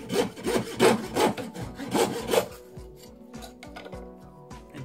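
A blade saws through a cuttlebone to halve it for a metal casting mold: several quick, raspy rubbing strokes close up, then lighter scraping and tapping as the cut finishes.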